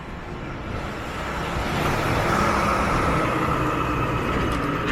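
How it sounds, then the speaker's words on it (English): A city bus on a Toronto street in the Garden District rolls past nearby, a steady broadband engine and road roar that swells and holds loud across the stretch, with no talk. "There's the Sherbourne bus."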